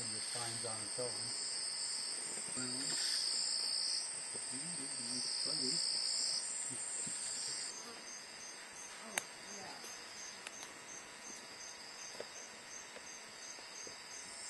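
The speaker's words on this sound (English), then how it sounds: "These are actually grasshoppers." Grasshoppers in the Peruvian Amazon make a steady high-pitched buzzing trill that runs through the whole stretch, with faint talk underneath at the start and a few soft clicks later.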